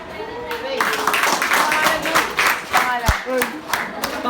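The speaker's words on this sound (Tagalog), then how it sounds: "Uy, Tama, palakpak lang tayo," Audience clapping at a senior high school honors ceremony, a steady crowd of hand claps sustained throughout with some voices mixed in.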